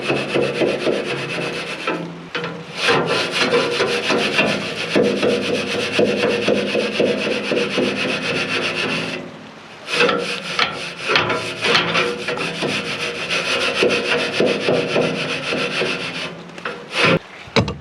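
Creosote flakes scraped off the stainless steel inner wall of a cooled Classic Edge 750 wood stove, a loud, steady rasping scrape in repeated strokes with two brief pauses, close and alone.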